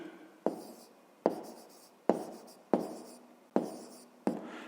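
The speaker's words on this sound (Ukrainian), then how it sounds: "Записуємо тоді, отже." Pen strokes on paper while solving a fifth-grade math exercise, six distinct scratchy strokes at a steady rhythm, each a sharp onset fading quickly, close and fairly quiet with no talking.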